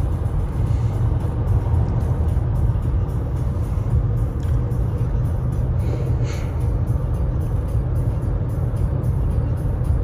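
A car cruises north on the I-5 highway in Washington State, heard from inside as a loud, steady low road rumble and engine drone that continues without a break.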